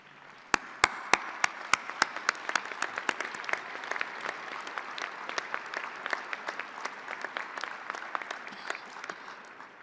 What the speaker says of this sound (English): please stand and applaud their contribution to their success